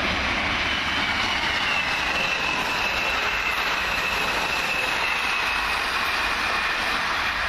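A British Rail Class 159 passenger diesel train arriving at Farnborough, a loud steady engine and wheel roar holding constant throughout, with no voices.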